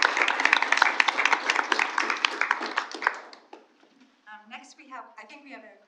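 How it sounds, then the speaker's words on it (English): A school board meeting audience breaks into a short round of applause, dense clapping for about three seconds that thins out, followed by a person speaking. "About another round of applause"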